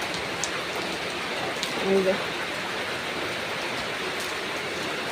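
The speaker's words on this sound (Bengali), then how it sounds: "বাইরে এখনো বৃষ্টি হচ্ছে, দেখেন।" Rain falls outside as a steady, even hiss of drops that continues throughout with no clear breaks.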